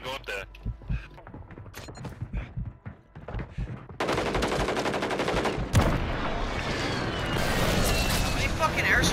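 Video game gunfire and airstrikes: sparse shots and clicks give way to dense, loud bursts of machine-gun fire and explosions, with people talking over the action.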